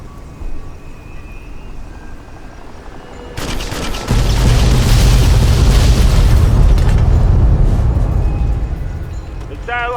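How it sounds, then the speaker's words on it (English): Airstrike explosions in the video game Fallout New Vegas start with a sharp crack, then swell into a deep, loud, rumbling roar that keeps going for several seconds before easing off. "Calling an airstrike."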